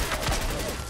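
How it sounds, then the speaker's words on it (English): A brief, noisy burst of gunfire from enemies shooting in Fallout 4, loud and close for about a second. "Guys shooting us."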